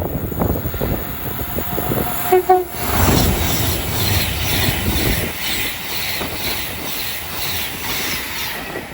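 A Class 390 train passes at Watford Junction on the West Coast Main Line with a steady rumble and wheel noise throughout and a brief horn-like tone partway through, fairly close and loud, with no talking.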